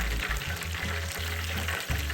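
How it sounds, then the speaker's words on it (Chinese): Continuous bubbling sizzle of battered chicken pieces deep frying in oil, steady and close, with a low hum underneath and no talking. "剩余的肉块拌一拌，再下锅，以相同步骤油炸至完成。"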